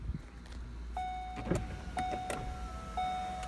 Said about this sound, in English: I'm going to go ahead and shut the windows.